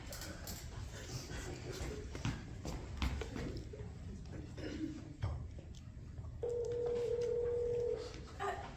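A cell phone rings during a live spelling bee show, a steady electronic ringtone starting near the end and sounding fairly loud over room noise and scattered audience sounds.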